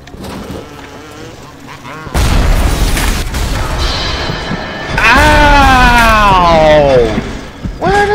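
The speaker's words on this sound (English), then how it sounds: "Where did that rocket come from?" A heavy rocket blast booms in the Bioshock video game, landing hard and loud, followed by a sustained rumbling burst while a player talks excitedly over the action.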